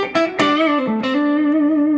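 A Fender Telecaster through a Tumnus drive pedal into a Genz Benz amp rings out with a warm, slightly driven tone, a few plucked notes then a sustained chord fading slowly, no voices.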